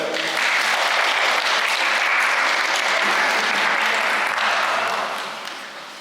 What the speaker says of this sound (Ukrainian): Подтримаем аплодисментами.